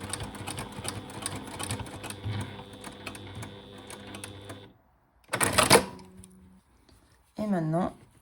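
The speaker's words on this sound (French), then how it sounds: "Et on va venir attacher le revers ici à la machine." A domestic sewing machine stitching a jersey cuff runs in a steady, close whirring chatter for several seconds, stops, then gives a short second burst before a brief final whir.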